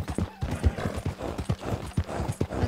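Horse hooves clip-clop in a steady trotting rhythm in the Red Dead Redemption video game, close and distinct, with no talk over them.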